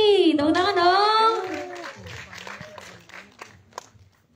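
Audience applause at a press conference for the film 'Tak Ingin Usai di Sini': a scattered burst of clapping follows a host's voice and fades over a few seconds.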